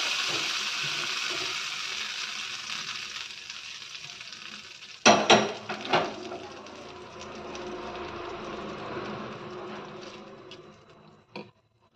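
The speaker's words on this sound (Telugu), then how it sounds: "ఈ పోపు యాడ్ చేస్తున్నాను నేను." Hot tempering poured into chutney: a soft steady sizzle gives way to a sudden loud hissing splutter, then fading crackles and spoon-scraping as it is mixed, with a final clink.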